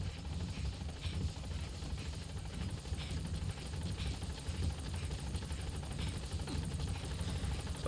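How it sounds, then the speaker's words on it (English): A helicopter arrives in the Metal Gear Solid V video game, its steady loud rotor roar and engine whine continuing without a break and with no voices over it. "But there's the helicopter."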